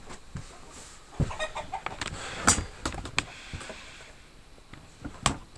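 A rooster and hens cluck in sharp, irregular bursts close by, some calls louder and brighter than others, over a quiet background.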